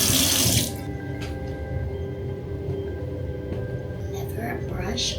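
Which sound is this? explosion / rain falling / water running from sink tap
water running from sink tap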